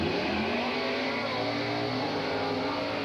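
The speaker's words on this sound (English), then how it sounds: "Wagon gets off first, the Nomad, making some horsepower." A 1957 Chevy Nomad wagon and a 1970 Chevy II Nova launch side by side in a drag race at Englishtown, New York, in 1983, with a loud sustained roar of revving engines carrying through the whole run.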